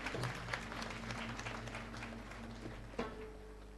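Steady applause from a gathered crowd at a Thursday devotional discourse, honoring two donor families, continuous and fairly even throughout with scattered individual claps standing out.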